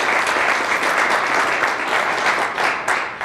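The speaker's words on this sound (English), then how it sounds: "let's give her a round of applause" Audience at a community meeting applauding after a loan product presentation, a short burst of dense, steady clapping throughout that tapers slightly at the end.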